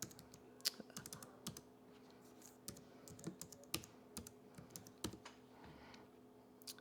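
Someone types on a computer keyboard at a slow, uneven pace while entering details to freeze a credit report; the key clicks are close, quiet and irregular, with no talking.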